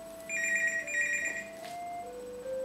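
A telephone rings with steady electronic tones that shift in pitch, close and fairly loud, with no talking over it.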